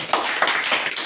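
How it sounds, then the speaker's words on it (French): A brief stretch of audience clapping for the guest speaker at a church gathering, dense and close with a few accented claps, lasting about a second. "On peut applaudir notre invité."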